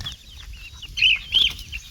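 Chickens cluck and squawk in short bursts over a low outdoor rumble on an early-morning farm, fairly close, with no voices.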